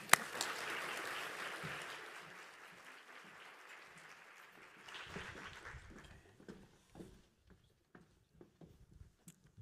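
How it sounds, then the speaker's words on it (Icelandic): Audience applause for a panel at an Icelandic environmental assembly on ocean protection, steady clapping fading out after about five seconds into scattered faint claps and room noise. "Við skulum klappa fyrir þeim öllum og gjörðu þess vel."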